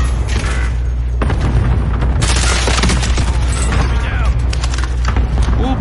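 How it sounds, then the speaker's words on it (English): Sniper rifle fire in Call of Duty Warzone Plunder mode rings out amid loud in-game combat, with sharp cracks and booms over continuous rumbling background noise and a player's voice breaking in. "Oh, somebody sniping."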